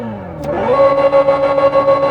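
A Hyundai Ioniq 5 N electric car plays its artificial active engine sound, a synthetic tone that rises in pitch as if revving, then holds a steady pulsing whine, loud and close.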